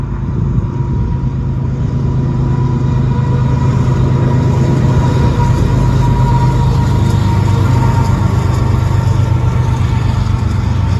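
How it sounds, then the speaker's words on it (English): An empty coal train in western Nebraska rumbles past steadily and loudly, a continuous low mechanical roar with faint rattling, no break in the noise. "this is the coal train we saw."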